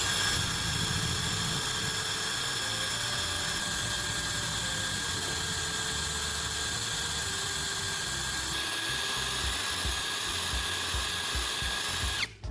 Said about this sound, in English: we'll drill a hole at the gas nozzle area